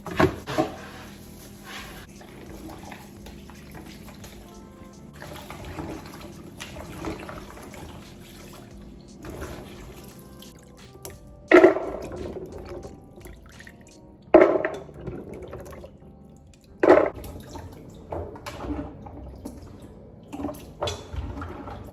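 Banga palm nuts are washed in water, with soft drips and trickles in a kitchen and a few louder splashing sloshes as the nuts are stirred around.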